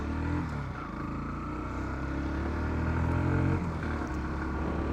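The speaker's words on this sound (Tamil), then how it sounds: "ஸோ எக்ஸாஸ்ட் நோட் வந்து பார்த்திங்கன்னா பெருசாக குறைய சொல்கிற அளவுக்கு இல்லை, நல்லாவே இருக்குது." Exhaust note of a 2021 Bajaj Pulsar NS 160 motorcycle, a steady, loud engine drone that holds an even pitch with a slight swell near the end.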